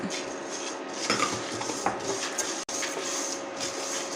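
A spoon stirs pepper and cumin dry-roasting in a pan for curry leaf powder, with repeated metallic scrapes and clinks against the pan, close and steady.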